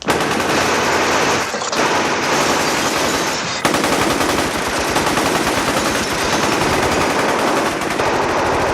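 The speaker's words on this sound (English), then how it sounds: "Sonny took a lot of bullets to his entire body." Dense, loud movie gunfire from The Godfather as Sonny is shot, sustained bursts of rapid shots with short breaks, filling nearly the whole stretch.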